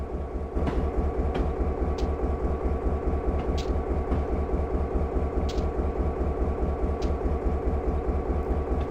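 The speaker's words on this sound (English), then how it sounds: "Guessing that's the train we want to take over there" A train in Train Simulator's Ohio Steel setting, a heavy, continuous low rumble with a pulsing engine throb and occasional faint clicks and clanks, steady and close.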